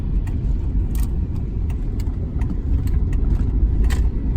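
A car that was won at a salvage auction is driven at moderate speed, with a steady mid-pitched engine hum and light rattles and clicks over road noise, and no talk.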